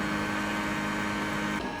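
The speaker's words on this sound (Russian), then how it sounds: "Сейчас мы слышим, как пылесос перекачивает водичку и будет промывать ей свои тряпочки." A Roborock Qrevo Curv robot vacuum pumps water at its base to rinse its mops, a steady low hum with a faint whirr that drops off slightly near the end.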